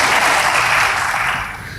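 A church congregation claps together, a dense wash of applause that holds steady and then begins to fade.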